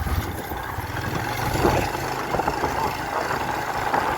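A motorcycle engine idles nearby with a steady, low, even rumble that holds through the whole stretch, with no other sounds standing out.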